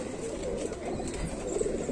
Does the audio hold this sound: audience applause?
no